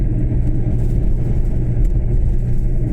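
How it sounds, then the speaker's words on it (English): A truck driving past on the M9 motorway near Falkirk, Scotland, a steady loud low rumble of engine and road noise that holds close and continuous throughout. "oh, it's a truck"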